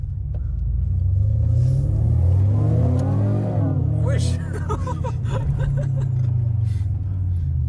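A Renault Clio V6 heard from inside the cabin gives a deep, steady rumble that swells as the engine revs and accelerates, then settles back to a low drone, with a person speaking briefly over it.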